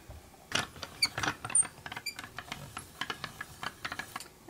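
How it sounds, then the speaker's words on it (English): A Sizzix Sidekick die-cutting machine cranks paper through for a die cut, making a faint, close run of irregular mechanical clicks and ratcheting taps with no talking. "I'm just going to bring in my Sizzix Sidekick here to die cut this out."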